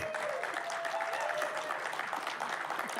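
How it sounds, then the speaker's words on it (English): An audience applauds an author and her book at a book club event, a steady wash of clapping filling the whole stretch at moderate level, with no voices over it. "So everybody, please clap for Audrey Golden and this book"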